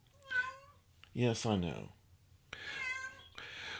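A cat meows repeatedly, upset by visitors in the house, with a short spoken phrase between the meows; the cries are clear and fairly close.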